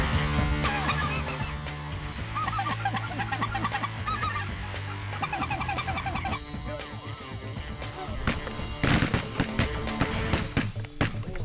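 White-fronted geese honk and call during a goose hunt in Arkansas, a busy chorus of rapid, yelping calls that overlap continuously and grow louder and more intense toward the end.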